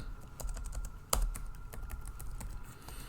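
Quick, light clicks of typing on a computer keyboard entering words into a spreadsheet cell, an uneven run of keystrokes close up with one sharper tap, no voices.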